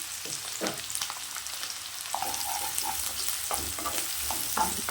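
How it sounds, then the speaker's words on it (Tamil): Finely chopped large onions frying in a pan for green moong dal, with a constant close sizzle and repeated scrapes and clicks of a spoon stirring. "நல்லா வெங்காயம் வந்து நல்லா பொன்னிறமாக வதங்கி வரணும்."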